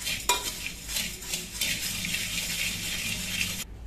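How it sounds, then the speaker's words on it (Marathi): Spicy thecha chutney being stirred into puffed rice for Kolhapuri-style oli bhel, a steady close scraping and rustling of utensil against bowl with a sharp clink near the start and no talking. "हे मिक्स करून घ्यायची चांगली ठेचा आपल्याला चुरमुऱ्यामध्ये।"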